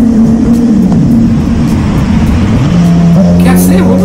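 A motorcycle engine roars steadily inside a tunnel, loud and continuous with a droning, reverberant tone that shifts in pitch, while someone talks over it.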